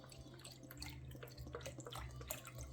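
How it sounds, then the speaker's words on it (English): Chicken broth pours into a cooking pot as a faint, steady splashing trickle with scattered drips, with no voices over it. "So we're going to add 2 cups of chicken broth."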